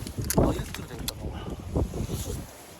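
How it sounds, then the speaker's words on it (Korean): Gusty wind buffets the microphone in rough bursts while people talk over it, on a cold snowy mountain. "바람 소리 들리십니까?"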